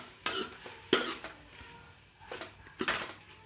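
Onions being mixed in a pan for a dry silver fish curry: a few quiet scrapes and knocks of a utensil against the pan over a soft background hiss.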